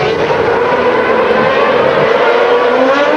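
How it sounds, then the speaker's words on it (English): Formula 1 cars from the 1992 Monaco Grand Prix roar past in a loud, continuous high-pitched engine wail that holds steady throughout, with no talk over it. "Senna's just got to put his car in the right position, and there's no way the Mansell could get through"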